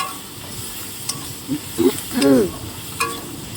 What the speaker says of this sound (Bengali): লবণটা দিয়ে একটু ভালো করে নাড়াচাড়া দিয়ে নিচ্ছি